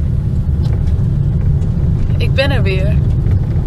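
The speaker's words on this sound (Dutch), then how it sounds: "Ik zit weer in de auto na de hypnose sessie." Steady low rumble of a car's engine and road noise, heard from inside the moving car, with a person speaking briefly over it near the end.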